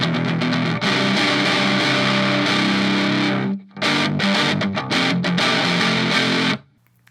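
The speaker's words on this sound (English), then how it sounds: "I'm gonna set it to now a nice distortion where I would use it in a recording situation in a pinch" Electric guitar through a Donner Extreme Driver pedal set to distortion, loud and saturated, chords ringing with a thick fuzzy sustain, briefly cut off, then chugging again before stopping abruptly.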